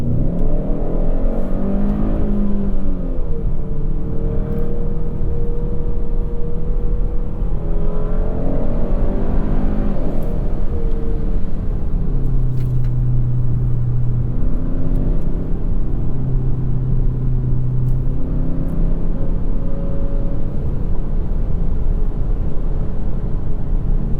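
A 2021 Hyundai Sonata N Line sedan driving at high speed, with steady loud engine drone and road roar, rising and falling as it accelerates and shifts, heard from inside the cabin without talk.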